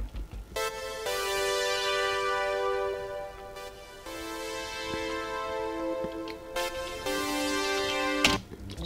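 Two music tracks crossfading in Magix Music Maker, with sustained tonal chords in repeating blocks that stop and restart, one layer fading in under the other at a modest level.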